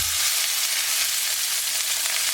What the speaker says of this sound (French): Allez, on part sur la cuisson de la tortilla.